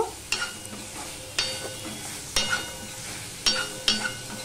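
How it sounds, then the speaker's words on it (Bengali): Fried okra being stirred and sautéed in a pan for a no-onion, no-garlic vegetarian dish, with spaced spoon scrapes landing roughly once a second over a low steady sizzle. "সম্পূর্ণটা মিশিয়ে নিয়ে আমি একটু কষিয়ে নেব।"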